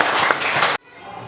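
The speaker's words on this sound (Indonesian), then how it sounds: "Tepuk tangan untuk Mas Yugo sama Winda." Students in an elementary school classroom clapping for two classmates, a brisk burst of many hands that cuts off abruptly, leaving a quiet room with faint background noise.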